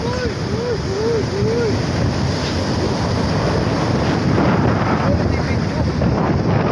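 Small sea waves wash onto a beach in Zambales as a steady, loud rush under heavy wind buffeting on the microphone, with a brief voice heard at the start.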